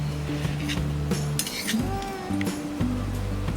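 A spoon mixes butter into sweet corn in a bowl, giving close clinks and scrapes of metal against the dish in an irregular rhythm over a steady background hum.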